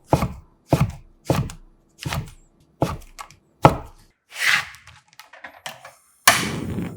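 A knife cuts king oyster mushroom stems into thin 0.4 cm strips on a board, giving about eight distinct thuds at a steady pace, close and crisp, with a brief shuffling between cuts.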